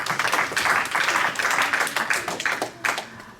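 A church congregation bursts into lively applause to acclaim the word of God, many hands clapping close and loud in a dense, slightly rhythmic wave that fades toward the end.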